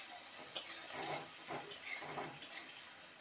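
Stirring a vegetarian sauce in a pan after tomato ketchup and a little sugar go in, with a few sharp utensil scrapes and clinks over a soft, low sizzle. The sound is close and quiet, and no one speaks.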